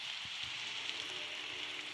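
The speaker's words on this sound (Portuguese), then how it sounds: "Ah, começou a chover." Steady rain hisses evenly in the video game 99 Nights in the Forest, a soft continuous patter with no voices.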